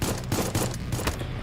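Rapid, dense gunfire from the Dawn of War 2 strategy game, a continuous rattling burst of many overlapping shots that fills the short stretch evenly.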